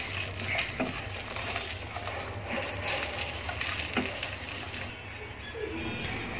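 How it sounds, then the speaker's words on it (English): Chestnuts fry in a pan, a busy continuous sizzle and crackle broken by the scrape of stirring, fairly close and with no talking. "Then this is chestnuts and we're gonna fry it."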